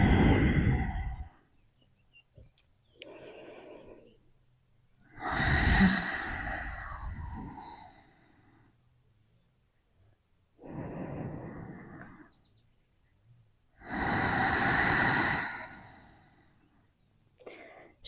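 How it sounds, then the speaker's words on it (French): Slow, deep breaths drawn in and let out through the nose during a grounding yoga session, about four long airy breaths separated by quiet pauses, close and soft. "j'installe 3 respirations profondes dans mon ventre. Inspire, toujours par le nez. Et aussi par le nez, j'expire."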